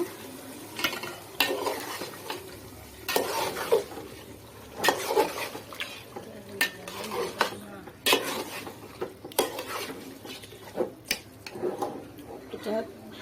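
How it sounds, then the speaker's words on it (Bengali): Two kilograms of meat being mixed in a pot, with repeated scraping and clattering strokes of a spoon against metal at an irregular rhythm, close and fairly loud, with some talk between the strokes. "এখানে 2 কেজি মাংস আছে, এটা সবটাই দিয়ে দিলাম। এটা ভালো করে এখন মিক্স করে নেব।"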